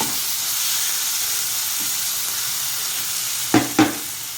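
Curry leaves and coriander fry in a pan for a crab curry, giving a steady loud sizzle with a couple of brief stirring clatters near the end.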